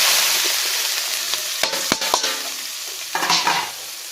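Onions and green chillies frying in a pan with fennel, cinnamon and star anise, a steady close sizzle broken by a few sharp scraping clatters of stirring.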